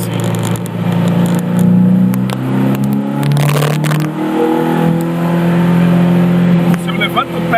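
BMW 320i E21 engine running on a MoTeC M4 engine management system, revving up and down loudly and close during tuning tests, with rising and falling engine tones and some crackle while someone talks over it.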